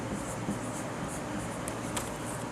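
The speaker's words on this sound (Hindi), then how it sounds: "फटाफट लिखते हैं।" Pen scratching on paper as someone writes quickly by hand during an English class, with soft, steady strokes and faint taps, quiet and close, with no talk.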